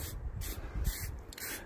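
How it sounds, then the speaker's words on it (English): Short bursts of aerosol spray laying a light dust of black guide coat over primer on a Raleigh Burner bicycle frame under restoration: three or four close hissing sprays with brief pauses, no talk. "So we're just literally spraying on a dust,"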